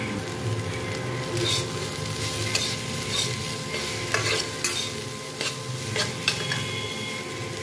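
Something fries in a pan until crisp: a dense, steady sizzle with the rhythmic scrape and clack of stirring repeated every second or so, close by and fairly loud.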